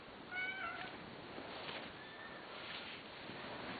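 A mother cat meows repeatedly, calling for her kitten, a couple of drawn-out calling cries early on and a fainter one later, against a quiet indoor background.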